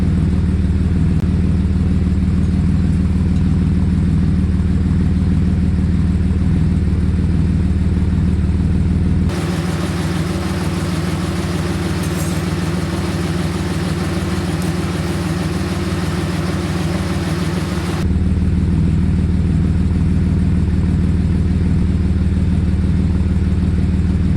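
A 1977 Porsche 911 Turbo engine idling as it warms up, a steady low rumble with a deep drone that holds evenly throughout, close and loud, no voices.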